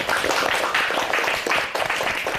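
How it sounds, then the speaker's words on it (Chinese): Audience at a Chinese legal-contest show breaks into applause for the contestants, a dense continuous clapping that swells in waves for a couple of seconds. "那让我们先热烈的掌声祝贺他们一下"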